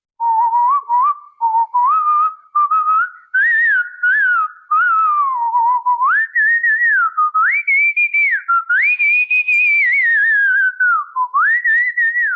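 A seventh-grade girl, a whistling champion, whistles a clear, continuous melody alone and close up, sliding smoothly between notes with brief breaths between phrases.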